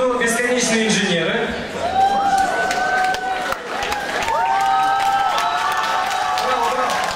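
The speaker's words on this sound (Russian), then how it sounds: "Аплодисменты нашей команде" An audience applauds and cheers as a team of young engineers is welcomed at an event, sustained clapping with rising whoops and voices over it, loud and close, with people talking amid the noise.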